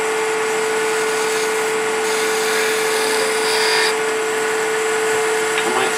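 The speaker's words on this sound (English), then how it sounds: "So I'm going to try to use peeling cuts to undercut my lid." A woodturning lathe hums steadily while a tool makes peeling cuts to undercut an end-grain lid, giving a continuous whine with a constant tone and light scraping texture.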